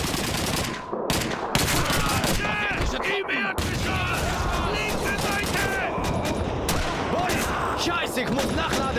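Heavy MG42 machine gun fire in Call of Duty 2 rattles almost without pause amid a chaotic battle, with other gunshots, explosions and shouted voices mixed in throughout.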